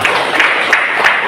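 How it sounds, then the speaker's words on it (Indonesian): An audience at a teachers' association conference in Indonesia claps in a brief, dense burst of applause that is loud and close throughout. "Tepuk tangan untuk Bapak Ibu semua."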